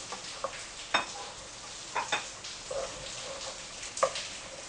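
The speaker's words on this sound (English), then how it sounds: "And now we add above the butter the Mughrabiye balls." Lebanese Mughrabiye pearl couscous balls cook in melted butter in a pan: a soft sizzle under irregular spoon scrapes and clacks as they are stirred, close and moderately quiet.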